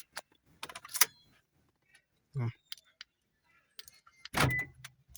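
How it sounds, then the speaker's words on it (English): A Toyota RAV4 driver's door lock actuates with a short mechanical clunk, followed by a louder thump, between brief bits of nearby talking. "Lock the driver's door now."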